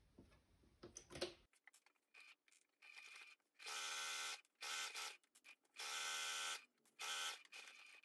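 A sewing machine stitches a seam in oilskin fabric, running in several short bursts of fast mechanical whirring separated by brief pauses, close and fairly quiet, after some handling noise at the start.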